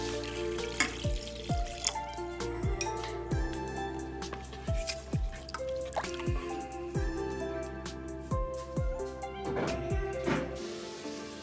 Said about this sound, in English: pour the peels inside the pot and add some water